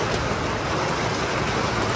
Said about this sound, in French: il n'est juste pas question de sortir parce que c'est le déluge